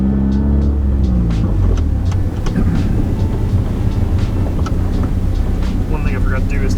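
A lifted, Hondata-tuned Honda Civic wagon cruises in normal driving, with a loud, steady low engine and road drone heard from inside the car throughout.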